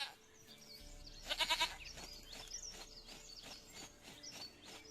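A goat bleats in The Witcher 3: Wild Hunt, a short wavering bleat against quiet game ambience with faint bird chirps and soft background tones, no speech.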